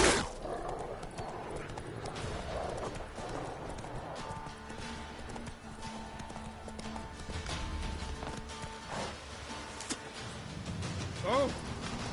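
Roach, a horse in The Witcher 3 on PS4 Pro, trots with a clear clip-clop and lets out a neigh near the end, close and fairly quiet, with a voice speaking over the hooves.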